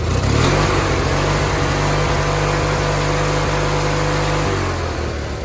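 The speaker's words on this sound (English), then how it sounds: "Adjust the RPMs. Yeah, I dropped it all the way down. This is all the way up." A 1985 Roper lawn tractor engine runs at full throttle, a loud, steady, droning rev that holds close and constant for several seconds and eases slightly near the end, with no talking.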